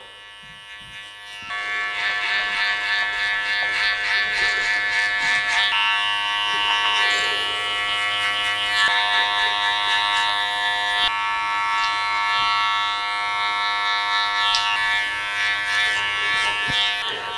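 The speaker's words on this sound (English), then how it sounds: "Bit of clipper over comb, bit of scissor over comb too." Electric hair clippers work over a comb during a haircut, a loud, steady buzzing hum that starts abruptly and runs continuously with slight pitch wobble as the blades move through hair.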